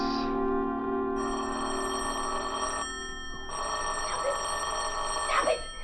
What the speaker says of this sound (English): Stop ringing, will you?